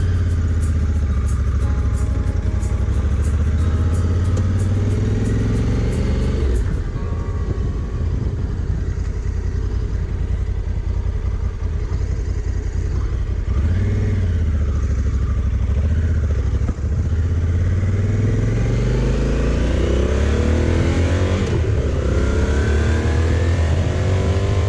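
A Honda Africa Twin adventure motorcycle rides along the road, its engine droning steadily and close under loud wind rush, with pitch rising and falling as the rider accelerates and shifts.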